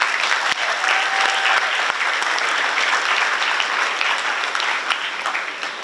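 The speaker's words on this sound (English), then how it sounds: "Let us please give our guest speaker another round of applause." A large crowd at a 12th grade commencement ceremony applauds the guest speaker, a thick, continuous blanket of clapping that stays loud and uniform from start to finish.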